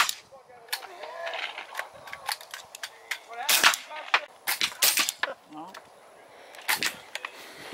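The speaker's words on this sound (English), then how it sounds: "Beretta 92FS with a Gemtech Trinity silencer." Shots from a Beretta 92FS pistol fitted with a Gemtech Trinity silencer at an outdoor shooting range, a string of sharp, suppressed cracks at irregular intervals, with people talking around them.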